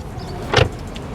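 A HiPhi X electric car being closed gives one brief, muted thunk with a faint whir, heard close up against quiet background hum.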